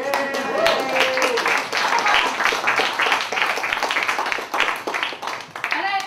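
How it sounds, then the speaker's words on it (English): An audience at a comedy show claps and cheers in a thick, steady wash of hands, with scattered whoops and voices mixed in throughout. "Can you clap it up for Good Decisions?"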